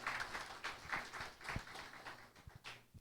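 An audience at an innovation-ecosystem panel event applauds a speaker: a brief burst of scattered, uneven clapping from a modest crowd, moderately close, with no talk.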